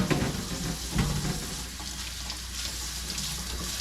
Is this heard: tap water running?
yes